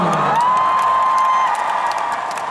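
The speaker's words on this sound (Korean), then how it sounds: "오늘 함성이 진짜 소리가 컸어요" Audience at a Phantom Singer 2 gala concert in Daegu cheering and screaming loudly, a dense continuous roar with a sustained high whistle cutting through.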